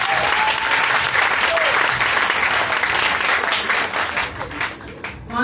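A church congregation claps and cheers for the Lord, with sustained dense applause from a crowd that fades slightly toward the end.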